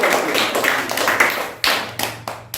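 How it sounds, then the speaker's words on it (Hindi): A group of children clapping their hands in a classroom when asked, a dense patter of many claps that thins into a few separate sharp bursts near the end. "बहुत अच्छे, ताली बजाइए।"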